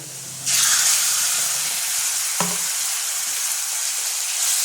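Spice paste hits browned onions in hot oil for a Bengali-style tilapia curry with bori and potato, bursting into a loud, steady sizzle and hiss that runs unbroken with a brief stir knock midway.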